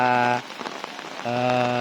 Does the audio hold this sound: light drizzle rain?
yes